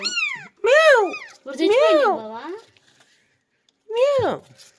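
Tiny kittens on a farm meow loudly and close by in three or four drawn-out, rising and falling cries, with short pauses between them.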